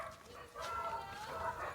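Several dogs bark and yip excitedly close by, short overlapping calls spread through a brief stretch with a person talking over them.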